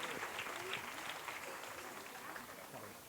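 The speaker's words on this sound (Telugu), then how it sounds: "అందరూ గట్టిగా చప్పట్లు కొట్టి వారికి వందనాలు తెలియజేద్దాం" Church congregation at a shrine service claps together in a sustained, even wash of applause that fades slightly toward the end, with faint voices mixed in.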